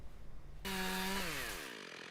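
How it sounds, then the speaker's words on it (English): A chainsaw starts up abruptly and revs at a steady high whine, then drops slightly in pitch as it cuts, clearing tornado-damaged trees in a Klein neighbourhood during Thanksgiving week; close and loud, no voices. "the sound of chainsaws is now the soundtrack of Thanksgiving week"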